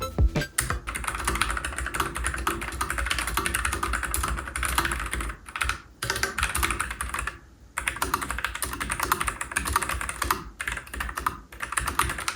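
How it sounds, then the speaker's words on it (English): Mechanical keyboard, newly unboxed, typed on steadily for about twelve seconds, a dense close clatter of key presses with brief pauses and no talking. "let's test the newly unboxed keyboard and hear those typing sounds."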